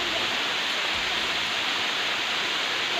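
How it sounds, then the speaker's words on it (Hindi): Siddhkhol waterfall near Kasdol, Chhattisgarh, running as a thin stream over rocks makes a steady, loud, unbroken rush of water close by. "इसके अलावा यहाँ पर आप देख सकते हैं झरना"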